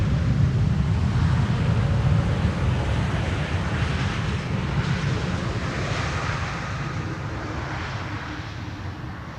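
An Air Canada airliner arriving from Toronto on final approach to Schiphol runway 18R, a broad steady jet roar with heavy low rumble and wind buffeting that fades gradually over the span.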